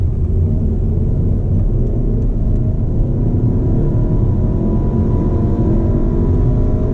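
A 2014 Volkswagen Passat TSI SE pulls hard in second gear from low revs, its engine a steady, loud, dense rumble from inside the cabin that holds at full level for the whole stretch.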